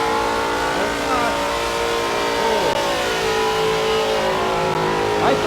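Car doing a burnout at the Castrol Burnouts competition at Summernats, the engine revving hard and droning steadily with rising and falling pitch sweeps, loud and continuous throughout, with voices talking over it.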